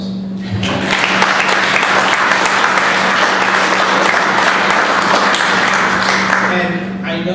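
A large crowd at a city council special meeting bursts into sustained, loud applause that continues steadily for several seconds before starting to taper.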